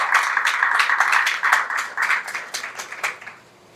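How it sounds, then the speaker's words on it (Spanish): Audience applause at a televised talk-show event, a steady wash of many hands clapping that fades out toward the end, with no voices over it. "quiero que ustedes se den un aplauso por estar aquí"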